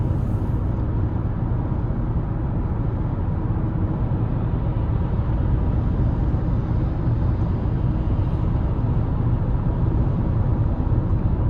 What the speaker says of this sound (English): Road noise not bad, wind noise not bad.